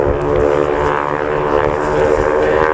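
Engine drone from the Breitling wingwalker display biplanes at an airshow, a steady loud propeller roar with a strong harmonic hum held throughout without any talk.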